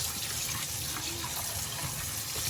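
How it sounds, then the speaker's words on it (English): Cold tap water gushes steadily into a container to rinse raw pork ribs, a constant loud rushing splash with no pauses or speech. "So I'm gonna put a lot of cold water in here, and I'm gonna rinse this guy really nice."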